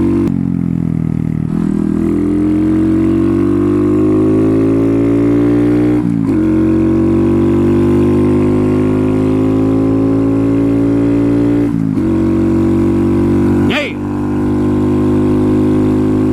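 Honda Grom motorcycle with aftermarket exhaust and intake, engine droning loud and steady as it climbs through the gears, pitch rising within each gear and dropping briefly at each shift.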